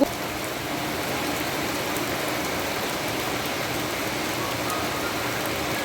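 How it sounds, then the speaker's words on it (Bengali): A heavy downpour hisses steadily and evenly, constant from start to finish with nothing else standing out. "এটা কিন্তু খুব জোরে বৃষ্টি পড়ছে"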